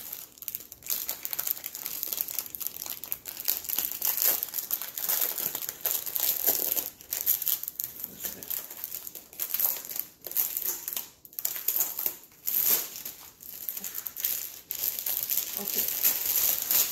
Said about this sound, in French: Alors, c'est venu dans un sac plastique, donc je vais l'ouvrir.